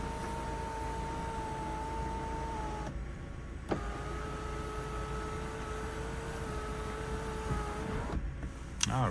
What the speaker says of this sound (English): we do also have a sunroof as well, which folds up and then also slides back as well.